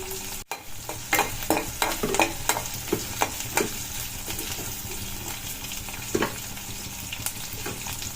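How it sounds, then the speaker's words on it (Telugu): Onions frying with mustard seeds, cumin and curry leaves in a pan, a soft continuous sizzle broken by repeated scraping stirs at an irregular rhythm, close and moderately quiet, with no voices. "జీలకర్ర, కరివేపాకు వేసుకున్న తర్వాత ఆనియన్స్ని దోరగా వేయించుకోవాలి"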